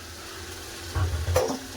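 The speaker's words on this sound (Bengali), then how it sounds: "মশলার সাথে খুব ভালো করে সব কষে নেবো" Potatoes and peas being stirred in spiced oil in a pan, a soft steady sizzle with a couple of brief scraping stirs close by, quiet and with no talking.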